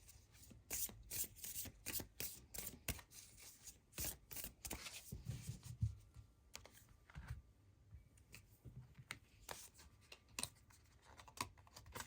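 Oracle cards being shuffled up close, with quick rapid riffles and flicks of card stock in bursts, then softer sliding and tapping, quiet and without talk.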